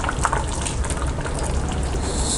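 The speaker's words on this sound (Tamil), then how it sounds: "தண்ணி ஊற்றிக்கலாம்." Water pours steadily into a pot of village-style mutton curry with a constant splashing gush, close and fairly loud throughout.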